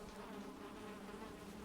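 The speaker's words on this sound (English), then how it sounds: "it looks like the bees are getting moved" Bees in the Valheim video game give off a steady, low insect buzz that drones on without a break, quiet and close, with no voices.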